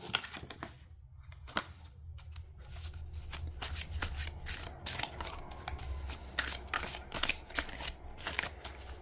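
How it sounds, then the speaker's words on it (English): Linen-finish tarot cards being shuffled overhand, a quick series of soft, crisp slaps and rustles coming in irregular bursts, close by and fairly quiet, with a low steady hum underneath. "So let's hear how these cards shuffle."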